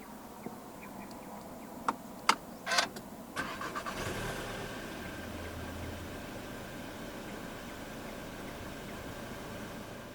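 A 2023 Volkswagen Arteon 2.0 TSI 4MOTION R-Line started by push button: a few faint clicks and chimes, then a short cranking surge as the turbo four-cylinder fires and settles into a quiet, steady idle.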